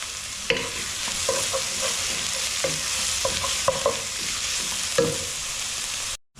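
Sliced onions and curry leaves fry in a pan, giving a steady close sizzle broken by repeated scraping knocks of a spoon stirring, before the sound cuts off abruptly near the end.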